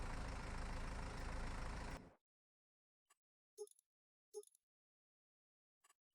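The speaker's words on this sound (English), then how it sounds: "this is going to be our crop scanning tractor" Tractor engine in Farming Simulator running steady and loud for about two seconds, then cutting off abruptly, followed by a few short faint clicks and blips.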